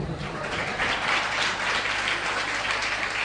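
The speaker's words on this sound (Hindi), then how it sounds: "बच्चे लोग ताली बजाओ" Children and a crowd clap together during a Holi religious sermon, a dense and steady patter of applause that sounds loud and fairly near throughout.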